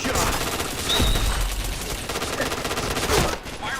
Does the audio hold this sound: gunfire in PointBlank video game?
yes